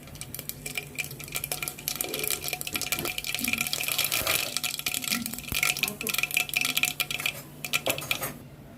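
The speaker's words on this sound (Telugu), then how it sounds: "నూనె కాగిపోయింది. ఆవాలు వేస్తున్నాను." Mustard seeds spluttering in hot oil inside a pressure cooker, a dense continuous crackle and popping with scattered sharp pops, close and fairly loud, with no talking.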